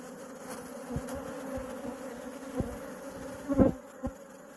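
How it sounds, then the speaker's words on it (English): Bees around a hive hum in a continuous droning buzz close by, with a few louder passes and knocks breaking through the steady swarm sound. "Now the bees are going after her."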